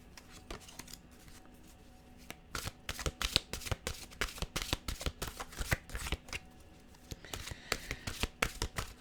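Tarot cards are shuffled close up in quick, crisp bursts of riffling and slapping that repeat throughout, fairly quiet and without any talking.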